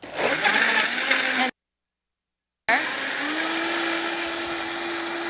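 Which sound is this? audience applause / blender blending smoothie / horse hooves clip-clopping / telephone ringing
blender blending smoothie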